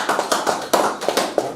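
A handful of sharp, distinct claps ring out in an uneven rhythm from a small audience at a conference stage event, close and fairly loud, with no talking over them.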